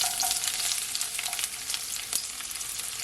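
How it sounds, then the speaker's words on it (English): Half an onion and garlic sauté in about two tablespoons of olive oil in a pot for a meatball sauce, giving a steady crackling sizzle with quick pops and faint stirring scrapes, fairly quiet. "Just gonna allow your onion and your garlic to saute for at least 30 seconds"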